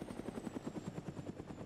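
A helicopter in the video game Arma 3, a rapid rhythmic rotor chop with steady thumping blade pulses and a high turbine whine, close and moderately loud.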